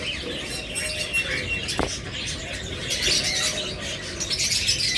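Green opaline lovebirds in a cage make scattered high chirps and calls over a busy room background, with one sharp click in the middle.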